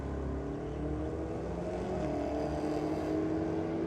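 A hot rod and a Commodore run a drag race at Sydney Dragway on drag and drift night, a steady, distant engine roar heard faintly across the strip without a break.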